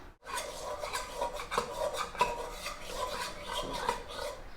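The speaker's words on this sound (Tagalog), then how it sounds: "Last is, Sugar. and we give it a stir." A spoon stirs sugar through a bread dough starter mixture in a bowl, making a continuous close scraping and clinking rhythm with no talk.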